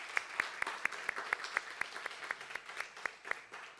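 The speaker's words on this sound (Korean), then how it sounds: "우리 한번 박수로 환영하겠습니다." A church congregation at Sunday worship claps in welcome for a visiting high-school student, a soft, distant patter of many hands with a few sharper, regularly spaced claps standing out.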